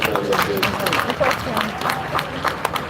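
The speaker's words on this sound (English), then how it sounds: "Alright, can we give another round of applause?" An audience gives a round of applause at a live-streamed talk, a loud dense patter of many hands mixed with crowd noise and murmuring voices, close and sustained throughout.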